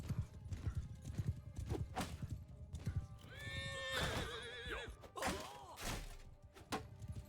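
A horse in Mount and Blade 2 Bannerlord gallops with quick, thudding clip-clop hoofbeats, then lets out a loud, quavering neigh near the middle, with hooves continuing around it.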